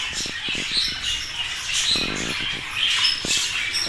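Budgerigars in an aviary squawk and chirp continuously in a busy, overlapping chorus of bright calls, with scattered scratchy patter throughout.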